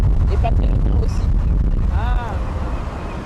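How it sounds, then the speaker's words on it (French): Heavy wind buffets an outdoor microphone with a constant low rumble, while traffic noise from passing cars sits underneath and a voice can be heard faintly in the background. "Il y a beaucoup de vent et puis il y a du bruit à cause des voitures qui passent."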